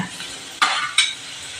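Onion being stir-fried in a pan for dhaba-style palak matar, a quiet sizzle broken by two sharp spatula scrapes against the pan in quick succession.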